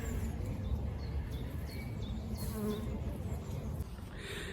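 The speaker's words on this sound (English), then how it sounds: "Bees and flies, always all over the dog roses." Bees and flies hum steadily and closely around dog rose blossoms outdoors, a continuous buzzing drone with a few passing insects swelling briefly louder.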